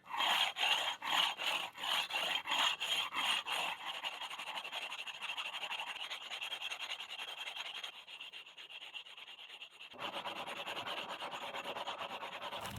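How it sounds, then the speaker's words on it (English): A rub brick grinds against a concrete curb edge while smoothing it, first in quick rhythmic back-and-forth strokes, then as a continuous close scraping rasp, loud and without any voices. "all I'm doing is just a quick rub brick and lacquer"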